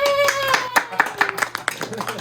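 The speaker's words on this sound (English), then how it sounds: "Big applause" Scattered clapping from a small group honoring a young Broadway director of The Wiz Junior, individual claps ringing out under an ongoing voice, close and moderately loud.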